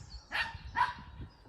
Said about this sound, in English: Okay, the dogs are playing.